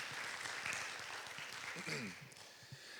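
Audience applause at a children's and youth song festival, a soft, moderate patter of clapping with a brief voice or two mixed in, tapering slightly toward the end.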